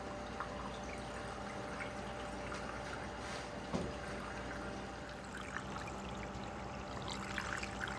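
Water and beach stockpile material are fed slowly by spoon into a gold sluice. A faint, steady trickle and pour of running water plays close by with small splashes and no voices.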